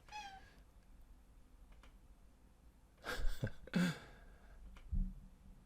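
A cat meows indoors, a couple of close, loud drawn-out meows in the latter half, with a faint brief sound earlier and quiet room noise between.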